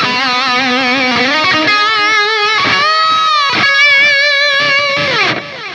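A smooth lead electric guitar through a Line 6 Helix modeler plays a melodic line of sustained, bending notes with vibrato, mildly overdriven and ringing, alone without any talking.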